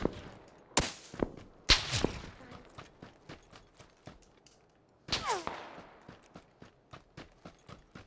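Sniper rifle shots in PUBG on Xbox One: a few sharp, loud cracks, each trailing a fading echo, followed by a run of quieter rhythmic footsteps. No one speaks.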